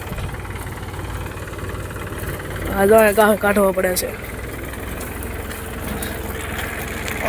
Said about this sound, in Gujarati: તો ચાલો તમને દેખાડું ખાડા ખરાવાનું ટ્રેક્ટર કેવું ચાલે છે